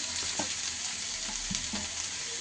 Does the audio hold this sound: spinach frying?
yes